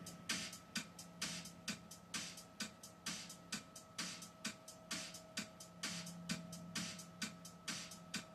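A steady studio drum beat on hi-hat, kick and snare, with an even groove of regular hits and a sustained tonal hum underneath, played alone throughout.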